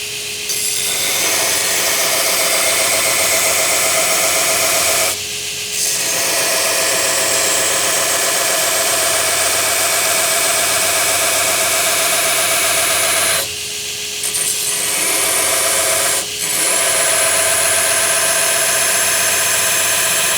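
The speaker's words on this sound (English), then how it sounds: "let's kick on the suction" Steady, loud whooshing roar of a workshop dust suction extractor running for about twenty seconds, with two brief dips where the airflow drops and recovers.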